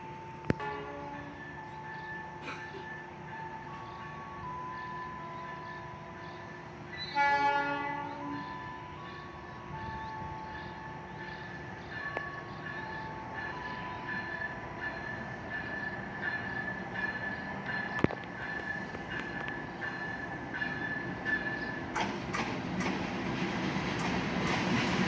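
The Cikuray passenger train pulls into Leles station, its horn sounding early, then a long rolling rumble and rail clatter that swells toward the end, heard from the platform without speech.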